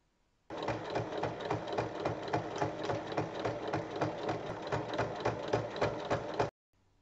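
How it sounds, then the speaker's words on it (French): A sewing machine stitches a seam down the middle of layered fabric pieces for a sewn organizer case, running steadily at a fast even pace for about six seconds before stopping abruptly. "Il faut faire une piqûre au milieu."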